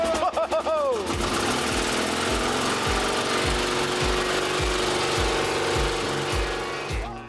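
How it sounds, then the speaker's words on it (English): An old engine on a farm pull-started with a wound rope catches and settles into a steady, thumping idle, with regular low beats running throughout after a brief rising pull at the start; voices are heard briefly at first. "which has kept the engine ticking over"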